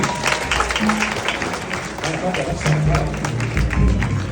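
A church congregation claps and cheers loudly in sustained applause while a voice keeps speaking over the crowd.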